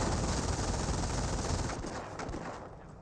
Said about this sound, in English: The mounted MG42 is firing away